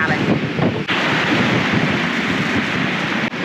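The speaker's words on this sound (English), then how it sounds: "Oh, this day's a lot windier, and a lot more grey, and a lot more damp." Strong wind and waves at sea on the North Pacific, a loud continuous roaring rush with wind buffeting the microphone and no clear voices.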